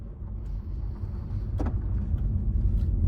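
A 2024 Honda HR-V with all-wheel drive rolls along a rough road, heard from inside as a steady low rumble of tires and engine with a brief rattle partway through.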